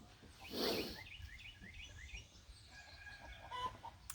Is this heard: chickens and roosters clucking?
yes